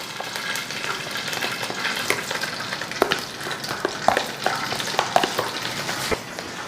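Ghee melting with oil in a pan for chana dal halwa, giving a steady close sizzle and crackle with scattered sharp pops and a few stirring clinks.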